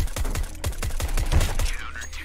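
Rapid burst of automatic gunfire in the video game CS:GO, a quick series of sharp close shots in a steady rhythm, loud and alone before tailing off.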